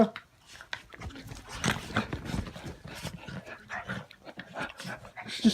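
Two vicious dogs fighting and attacking each other, with snarls, yelps and panting bursts throughout, close and loud, mixed with shouting voices.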